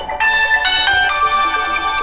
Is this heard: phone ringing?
yes